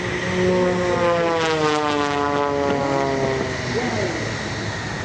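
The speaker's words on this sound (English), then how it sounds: "Now it's going to hang it on the propeller, 355 horsepower." Scott Francis's 355 hp MX aerobatic airplane hangs on its propeller at the Westmoreland County Airshow, a loud, steady engine drone with shifting harmonic whine, continuous throughout under a faint announcer's voice.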